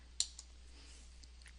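A single sharp computer mouse click near the start, followed by a softer click and a few faint ticks over a quiet room hum, with no talking.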